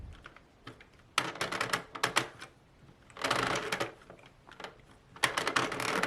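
Sentro knitting machine cranked around by hand, rapid plastic clicking and clattering in bursts with short quiet gaps, close-up and moderately loud.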